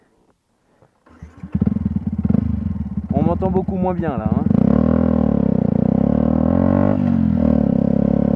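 A Yamaha YZF 125 R motorcycle with a Leovince exhaust starts up nearby, revs sharply a few times, then settles into a loud, steady throbbing idle while someone speaks briefly over it.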